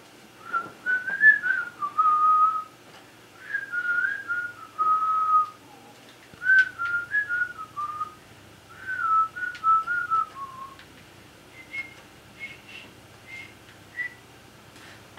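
A person whistles a tune in clear, loud, sustained phrases with short gaps between them. The melody glides up and down over about fifteen seconds and closes with a few higher notes.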